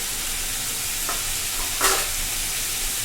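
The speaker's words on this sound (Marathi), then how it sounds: "आता तसे बटाटे सरसरायला लागले" Potatoes sizzling in a pan for a vegetable curry, a steady crackling fry with a couple of brief stirring scrapes and clinks, close and alone.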